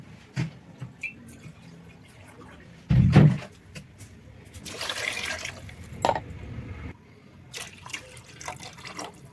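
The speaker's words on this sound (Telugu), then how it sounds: "ఇదే చెంబుతోని వాటర్ అయితే వస్తుంది." Water is poured from a small vessel into a cooking pot of rice. Short, faint splashing pours come in a few separate bursts, with soft knocks and handling noises between them.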